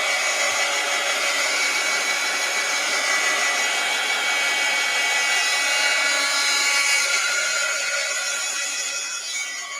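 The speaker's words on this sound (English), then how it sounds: "let's hit this with the heat gun again" A heat gun blows steadily on a tissue paper craft, a loud, close, continuous whooshing hiss that holds for about ten seconds and eases slightly at the end.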